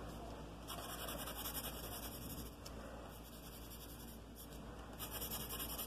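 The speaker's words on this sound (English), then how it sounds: "And then I'm just easing that pressure with my pencil." A graphite pencil shades across paper, giving a soft, continuous scratchy rub that stays faint and steady with brief pauses between strokes.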